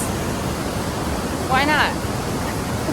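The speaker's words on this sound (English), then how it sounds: "This is kind of like waterfall number 2," Roadside waterfall beside a Pacific Northwest road, steady broadband rush of falling water filling the whole stretch, with a brief voice speaking over it midway.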